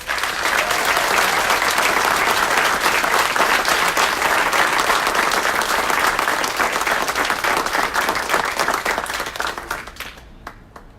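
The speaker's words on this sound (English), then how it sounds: "let's give a big round of applause to the one and only Pam Bradley" Sustained audience applause and clapping for Pam Bradley at a Law Enforcement Youth Academy event, loud and steady for about ten seconds before tapering off at the end.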